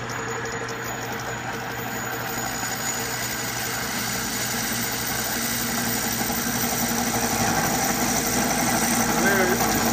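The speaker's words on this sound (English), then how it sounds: "They're starting to chatter." A Craftsman Atlas metal lathe cuts steel with a continuous grinding, rumbling drone that builds slightly over ten seconds. A faint rough chatter runs through the motor noise.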